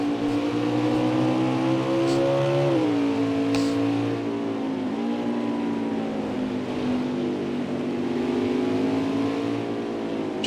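Sirius XM Mustang race car in an Xfinity race at Mid-Ohio, engine howling steadily at high revs with pitch dipping and rising through gear changes and corners, loud and continuous.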